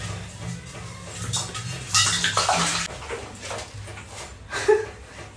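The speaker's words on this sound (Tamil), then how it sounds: "தண்ணி ஊற்றிடும்." Water is poured into a pot in a home kitchen, a few brief splashing bursts with faint clinks of metal between them, fairly close and without talk.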